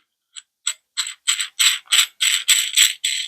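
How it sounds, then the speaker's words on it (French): A ratchet clicks in quick, evenly spaced bursts as a nut is screwed onto a bolt holding steel washers and pieces of wood, each stroke growing louder and closer over a few seconds. "je visse mon écrou"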